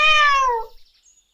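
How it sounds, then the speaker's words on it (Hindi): A single clear, loud cat meow, drawn out and falling in pitch before trailing into silence, used as a sound effect in a Hindi animal story. "उसी पेड़ पर एक बिल्ली भी रहती थी।"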